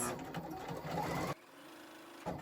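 Sewing machine running long gathering stitches on knit fabric for a toddler dress, a fast steady whirring chatter that stops briefly and then starts again, close by.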